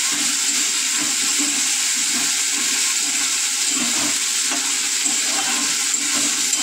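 Ginger and green chili paste fries loudly in spattering oil, a dense, steady crackling hiss with low scraping and knocking as a long-handled spatula stirs it, close and continuous, with no voices.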